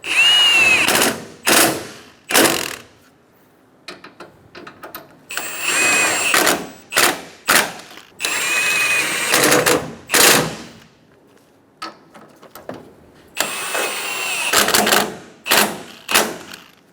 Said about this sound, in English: Snug down the top bolts for the bumper.